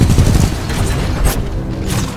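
Dense rapid gunfire in the sci-fi shooter Titanfall 2, loud crackling volleys with booming hits that thin out toward the end.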